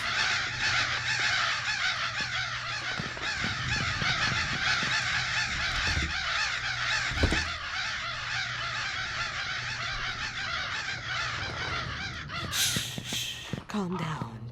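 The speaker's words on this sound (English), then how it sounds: "Ah, they're her birds." Crow-like cawing and honking birds call steadily through a tense scene in the horror video game Remothered: Broken Porcelain, with a voice speaking over them and a sharp burst near the end.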